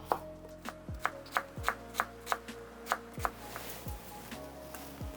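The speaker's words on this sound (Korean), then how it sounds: "파프리카 반 개 사용합니다 잘 자르게 썰어 주겠습니다." Half a bell pepper chopped with a knife on a cutting board: a steady run of crisp, sharp knife taps, close and clear, with no voices.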